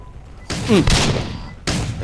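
An explosive gun fires in the Roblox game, with two sharp bursts and booming thuds that leave a noisy tail, along with a brief voice.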